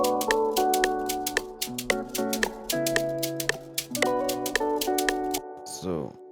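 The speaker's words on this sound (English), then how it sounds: "without the effect on the shaker, it sounds like this." Dry shaker loop in an FL Studio Afrobeat production, unprocessed, playing inside a full beat with steady bright percussive ticks over keys and bass, stopping near the end with a short falling tail.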